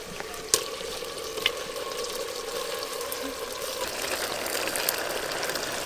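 Washed meat dropped into a clay pot of frying ginger, garlic and onion gives a continuous close sizzle and crackle, with a couple of sharp knocks early on and a soft hum beneath.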